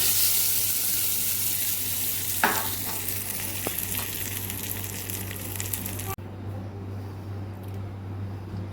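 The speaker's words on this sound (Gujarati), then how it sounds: "ચટણીની ઉપર આપણે વઘાર ઉમેરી દઈશું" Hot oil tempering of mustard seeds, hing, dried red chillies and curry leaves for a chutney sizzles loudly and steadily, with a few sharp pops, then cuts off abruptly and leaves a quieter hiss.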